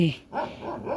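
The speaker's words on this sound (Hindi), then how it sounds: "दूसरा कुत्ता भी भौंक रहा है।" A dog barks a couple of times, short and sharp, close by, with a faint voice in the background.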